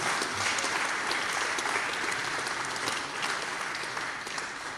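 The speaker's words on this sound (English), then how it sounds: "So big applause for Shafraad" A conference audience at a web camp event gives steady, even applause for a presenter, a dense sustained clapping from a moderate-sized crowd that fades slightly at the end.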